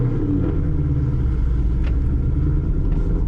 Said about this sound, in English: You have to hit the throttle, hold it, and then let the clutch out